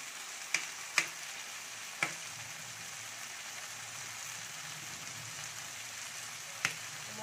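Chilli chicken frying with soy and chilli sauces in a pan gives a steady low sizzle, with a few sharp clinks from the stirring utensil against the pan.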